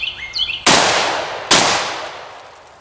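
Two loud, close blasts from a High Standard 10 B bullpup police shotgun about a second apart, each with a long decaying echo, after birds chirping softly in the background.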